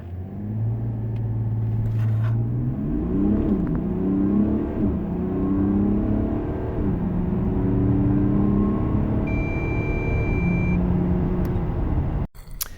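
A Mercedes GLE Coupe 400d with a 2.9-litre inline-six diesel accelerates hard in a 0-100 km/h run, its engine note climbing through several gear changes, loud and close inside the cabin, with a short electronic beep near the end.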